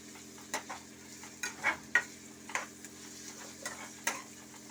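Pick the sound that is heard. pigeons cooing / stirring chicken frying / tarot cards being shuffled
stirring chicken frying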